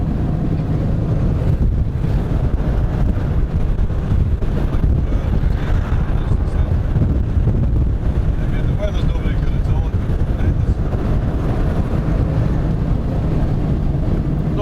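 Strong wind roars steadily against a vehicle crossing flat open plains on an autumn road trip from Scotland to France, a constant loud low rumble of gusts buffeting the microphone throughout.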